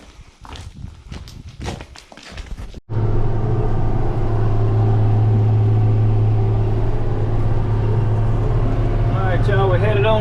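A few quick footsteps lead into a cab tractor starting up on a farm; its engine then settles into a loud, steady, close rumble with a constant hum, while a voice talks briefly near the end.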